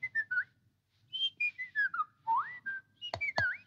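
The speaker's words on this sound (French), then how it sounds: "il se mit tout bonnement à siffler" A baby whistles in a short run of thin, sliding notes with brief pauses between them, close and clear, ending in a few sharp rising chirps.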